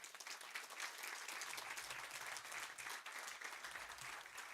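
Audience at a building grand opening ceremony for a tribal college clapping steadily, a dense, even wash of applause from a moderately distant crowd that holds throughout without talk.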